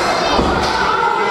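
Wrestling crowd at a falls count anywhere main event, loud roaring cheers and shouts with a dull thud near the start, close and busy throughout.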